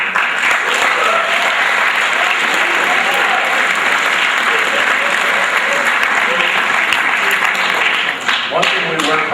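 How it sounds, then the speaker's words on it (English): A school gym audience at a fall sports awards night gives the senior soccer players sustained, dense applause, a steady loud wash of many hands clapping throughout, with a few faint voices mixed in near the end. "a little round of applause for them"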